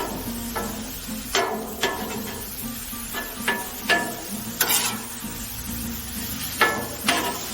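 Cheese steak pizza ingredients cooking in a little oil on a Blackstone griddle, a faint low sizzle under repeated sharp scrapes and taps of a metal spatula on the flat top.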